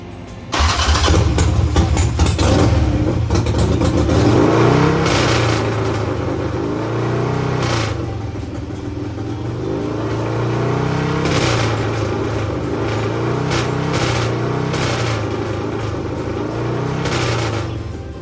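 A 1250 motorcycle engine cranks, catches and revs up near and loud, then runs unevenly with a misfire, its revs rising and falling repeatedly over a sustained rough drone.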